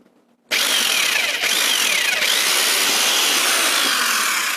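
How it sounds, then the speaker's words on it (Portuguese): An electric drill starts abruptly and bores steadily into wood for a birdhouse or feeder, a loud, continuous whining grind with slight changes in pitch as the bit cuts, close and alone. "Se carregarem um bocadinho a broca contra a madeira antes de ligarem o berbequim"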